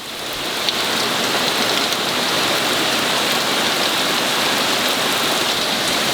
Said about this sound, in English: When they said heavy rain today, they were not kidding.